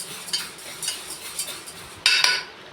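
A spatula scrapes and clinks against a pan as toor dal is stirred while dry-roasting, with repeated light strokes and a louder burst of scraping near the end.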